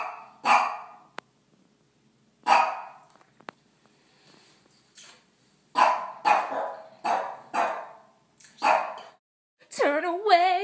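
A dog barks in scattered single and double bursts, loud and close, with quiet gaps between and a high whining yelp near the end.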